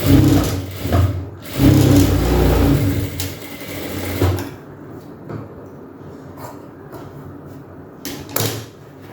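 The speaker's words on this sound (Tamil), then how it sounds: "ஜஸ்ட் ஒரே ஒரு ஃபோல்ட் பண்ணி ஸ்டிச் பண்ணிக்கலாம்" A sewing machine runs in bursts while stitching down a single folded fabric edge on an umbrella frock, its loud rapid whir starting and stopping, followed by quieter handling of cloth.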